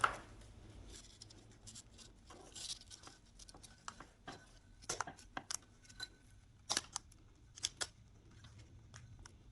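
Scissors or pruning shears snip through tangled roots and a plastic pot during repotting, giving a string of sharp, irregular crunching cuts, close and moderately loud, over faint background hum.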